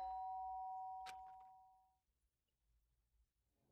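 A doorbell in the video game Danganronpa gives a single clean electronic chime that rings steadily and then fades out slowly, followed by a few soft clicks and near silence.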